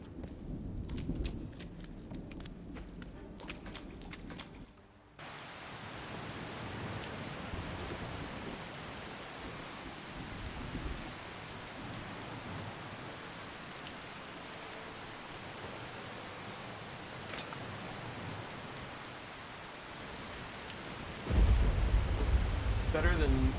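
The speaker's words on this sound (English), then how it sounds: "It's raining." Rain and thunder in the game Skyrim: a steady, dense wash of rainfall with low rumbling thunder, opening with a louder crackling burst before a dip, then continuous rain, with a heavy low roll of thunder near the end.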